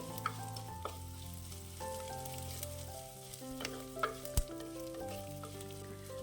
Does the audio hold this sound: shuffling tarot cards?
no